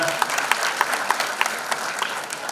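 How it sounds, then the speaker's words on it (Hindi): Brief burst of audience applause at a celebrity event for a singer, steady close clapping with sharp individual claps standing out, no talk over it. "एक बार और इन तरफ से जोरदार ताली होना है।"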